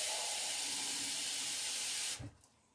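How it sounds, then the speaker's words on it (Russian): Cold water is poured into a pot holding a jar set on a cloth, a steady, close splashing hiss that stops abruptly after about two seconds, leaving a few faint drips. "Сейчас добавлю еще воды."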